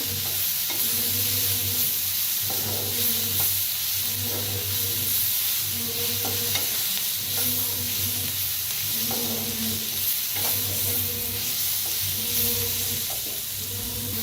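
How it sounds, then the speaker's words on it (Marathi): A spiced mixture with coriander dry-roasting in a pan, its steady hiss and sizzle broken by rhythmic spoon scrapes about once a second, close and continuous, with no voices. "भाजलेलंच आहे, आता थोडंसं भाजूया"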